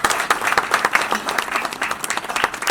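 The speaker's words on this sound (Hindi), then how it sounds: "ईश्वर अंकल के लिए जोरदार ताली बजाइए।" An audience at an autobiography launch event claps enthusiastically for an honoured guest, a brisk patter of many hands with distinct claps poking through, moderately loud and unbroken for a few seconds.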